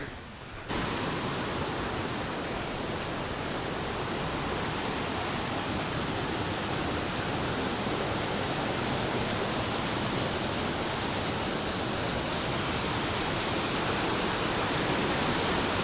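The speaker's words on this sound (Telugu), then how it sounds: "ఇదే పెద్ద వాటర్ ఫాల్, చాలా పెద్ద వాటర్ ఫాల్." A large monsoon-season waterfall at Rampa roars as a steady, dense wall of rushing water, loud and unbroken throughout with no voices over it.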